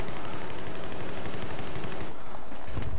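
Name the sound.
DAO-12 shotgun gunfire in Battlefield 3 video game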